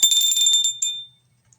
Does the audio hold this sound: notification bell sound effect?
yes